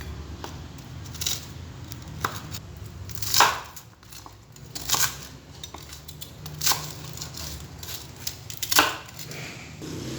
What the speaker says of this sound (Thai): ต้องหั่นเร็ว ๆโอ้กรอบได้ยินเสียงใช่ไหมครับว่ามันกรอบมากเลย